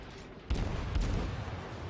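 Naval guns firing in the World of Warships video game: two loud, booming salvos about half a second apart, each followed by a sustained rumbling roar of battle noise.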